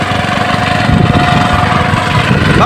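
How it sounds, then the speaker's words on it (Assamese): A tractor ploughs a farm field, its engine chugging with a steady mid-pitched drone and rhythmic pulsing, loud and close throughout. "এতিয়া ট্ৰেক্টৰ হাল বাইছে"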